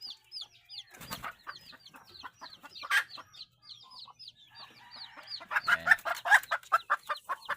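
Pet Labuyo jungle fowl hens give rapid, repeated clucks close by, bursts of clucking rising and falling through the clip and growing busier toward the end, with no talk over them.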